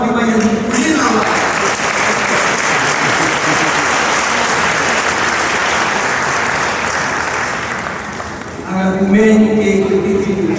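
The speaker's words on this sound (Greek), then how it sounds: "Ένα θερμό χειροκρότημα" Warm, loud applause from an awards ceremony audience in a large hall, a thick sustained roar of clapping that fades slightly before a speaker's voice comes in near the end.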